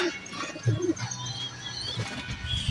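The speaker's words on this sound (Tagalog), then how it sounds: "Ito yung mga young bird natin." Young racing pigeons in a loft coo softly, low murmuring calls repeating irregularly over a steady background hum, close by and moderately loud.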